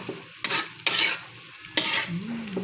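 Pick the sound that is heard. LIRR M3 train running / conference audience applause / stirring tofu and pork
stirring tofu and pork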